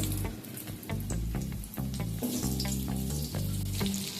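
Cut potatoes frying in hot oil with whole spices, four small cardamom pods and two cloves, a steady close sizzle with some stirring, under background music.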